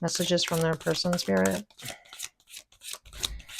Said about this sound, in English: I'm just going to give the top one more quick shuffle